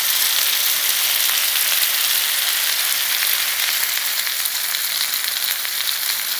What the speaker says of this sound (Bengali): আমরা ঘুরিয়ে ঘুরিয়ে ভেজে নিয়েছি